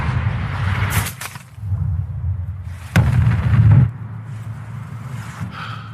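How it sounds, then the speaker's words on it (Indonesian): A sniper rifle shot in an action film scene, heard as sharp broadband cracks around one and three seconds over a loud, rumbling low-frequency bed, with the second blast the strongest and a dense sustained boom after it. "Pada akhirnya Chris pun melesatkan tembakannya"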